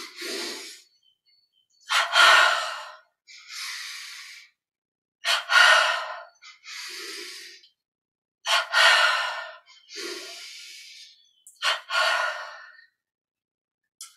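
Deep, audible inhalations and slow exhalations repeat in a steady cycle during guided meditation breathing, each breath close and breathy with short silent pauses between, and no talk over them.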